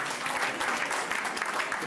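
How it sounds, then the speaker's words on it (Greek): Warm applause in a hall for composer Giannis Bouvidis at a Saint Basil's Day pita-cutting gathering, a steady, moderately distant crowd clapping with a busy, uneven texture and no talk. "ένα θερμό χειροκρότημα"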